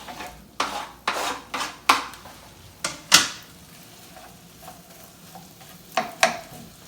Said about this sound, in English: the butter and olive oil are melded together, and I'm going to add the apples.